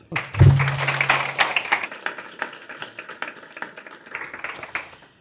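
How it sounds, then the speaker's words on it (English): Audience applause welcoming panel speakers at a political discussion event, a burst of clapping that starts strong and gradually thins out into scattered claps. "Please welcome them with a warm applause"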